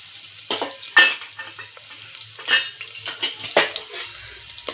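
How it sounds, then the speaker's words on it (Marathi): Whole spices drop into hot oil for a rustic Maharashtrian dry chicken dish, with sharp metallic clinks and scrapes of a utensil against the pan over a low, intermittent sizzle, close and fairly loud. "तेल गरम घेतल्यावर आपण हे खडे मसाले घेतले होते ते सगळे मी टाकून घेत आहे"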